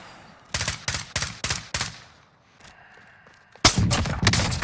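Gunfire in Call of Duty Warzone: a burst of five sharp, loud shots in quick rhythm, a short pause with a faint tone, then more rapid close shots.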